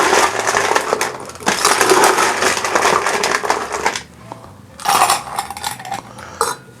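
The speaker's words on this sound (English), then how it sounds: "we're going to add a little bit of ice to a glass." Ice cubes are scooped and dropped into a glass for a brandy milk punch, making loud, close clattering and crunching in two long bursts. A shorter rattle comes after a pause.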